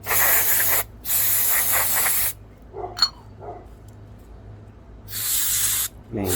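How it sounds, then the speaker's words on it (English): Carburetor cleaner sprays in three loud, close hissing bursts onto the bowl of a Craftsman lawnmower carburetor, with quiet gaps holding a few small clicks and taps between the sprays. "So spray out the bowl."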